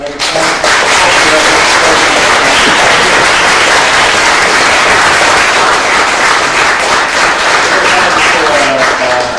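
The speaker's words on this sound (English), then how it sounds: "Please, can you have some applause for our speaker?" A symposium audience applauds its speaker with sustained, dense clapping that fills the room loudly from start to finish.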